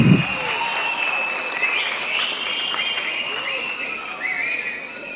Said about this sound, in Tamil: அதுக்காக நீங்கள் எல்லாம் சேர்ந்து ஒரு பெரிய கரகோஷம் ஒன்று கொடுங்க.